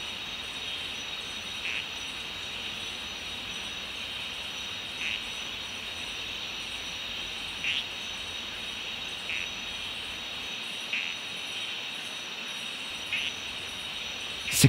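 An ornate nursery frog gives short, high chirping calls from beneath bark in a stump at fairly regular intervals, every second or two, over a constant background drone of insects.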